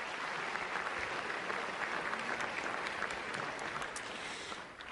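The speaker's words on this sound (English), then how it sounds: "give yourselves a round of applause" Audience applause at an evening event at the American Museum of Natural History, a dense, steady wash of many hands clapping that holds evenly and begins to thin at the very end.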